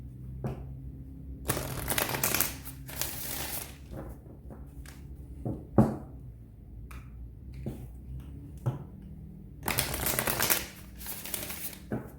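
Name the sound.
shuffling tarot cards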